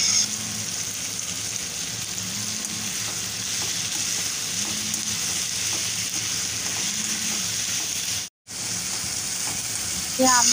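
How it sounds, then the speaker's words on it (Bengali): Chicken stir-fries with turmeric and salt in a pan under a constant close sizzle. A spatula sweeps through at a slow, even rhythm, and the sound cuts out briefly near the end. "হলুদ গুঁড়ো ও নুন দিয়ে ভালো করে নেড়ে চেড়ে ভেজে নেব।"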